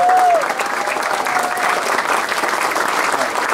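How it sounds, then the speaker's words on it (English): Loud, sustained audience applause for Frank and his team at a Yosemite National Park 125th anniversary ceremony, a dense crowd of hands clapping steadily, with a brief whistle-like tone at the start. "let's give Frank and his team, Adonia's here, a round of applause"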